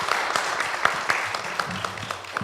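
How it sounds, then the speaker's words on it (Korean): An audience at a Korean community seminar on immigration policy, held in a Catholic cathedral, claps to welcome a speaker: a continuous, fairly loud patter of many hands with sharper individual claps standing out. "박수로 맞아주시기 바랍니다."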